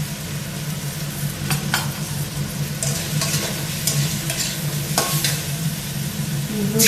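Spices for a Bengali katla fish curry with potatoes, coriander and cumin powder, stirred and sizzling in a pan, a steady frying hiss with scattered scraping clicks of the spatula, close and continuous with no talk.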